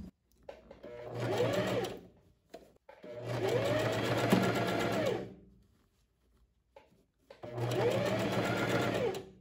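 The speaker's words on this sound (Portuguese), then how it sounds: "Já estou costurando as laterais da manga." A sewing machine stitches the side seams of a long puffed sleeve in three close, loud runs of steady whirring, separated by brief pauses.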